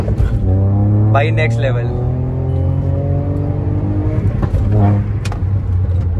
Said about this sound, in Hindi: एक बार थोड़ा सा एक्सलेट करके दिखाओ भाई कैसे लोगों को उठती है